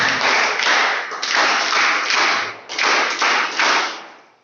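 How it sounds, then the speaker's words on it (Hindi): Loud, close applause from an audience at an Indian college NSS club event, several bursts of dense clapping swelling and dipping over a few seconds with no talk. "उनके लिए जोरदार तालियां होनी चाहिए"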